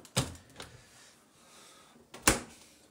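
Door catch on a COMFEE KWH-TD802-W white tabletop compact dishwasher: a sharp click near the start with a softer knock after it, a quiet pause, then a second firm latch snap, close and clean in a quiet room.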